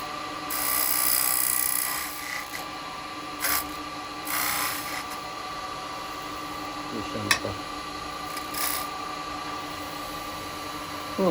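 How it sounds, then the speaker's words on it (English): A wood lathe turning a Japanese-style birdhouse as a tool takes a small chamfer: a steady whirring hum with short scraping bursts of cutting and a sharp tick, close and moderately loud. "now what I want to do is just take a little chamfer"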